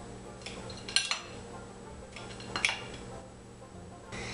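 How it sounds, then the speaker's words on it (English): A knife or utensil clinks against a plate while an ice cream bar is cut up, two or three brief scraping taps separated by quiet pauses. "Cut up your ice cream bar"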